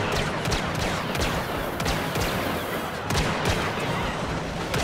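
Rapid blaster cannon fire from the Star Wars Battlefront (2015) video game, a dense run of sharp, loud energy-weapon shots with thudding low end continuing steadily throughout, under faint game noise.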